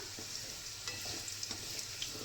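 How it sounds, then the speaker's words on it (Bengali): Potatoes frying in a pan for a vegetarian dish, a soft steady sizzle with light stirring scrapes and small pops, close and alone without talk. "আলু ভাজা ভাজা হয়ে গেছে"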